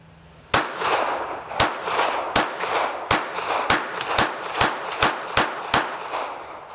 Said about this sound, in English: Let's go ahead and do some rapid firing with this thing.